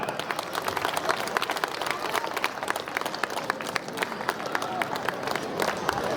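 An audience claps steadily throughout at an award ceremony held during a community gathering, dense and continuous with light crowd murmur underneath.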